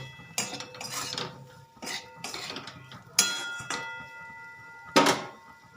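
A spoon clanks and scrapes against a pan while stirring amla pickle with ground spices, in several separate bursts of close metallic knocks with short pauses between.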